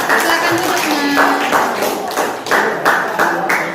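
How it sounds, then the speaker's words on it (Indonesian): Schoolchildren in a classroom clap in several uneven bursts, the claps loud and close with gaps in between, and voices mix in throughout. "tepuk tangan dulu"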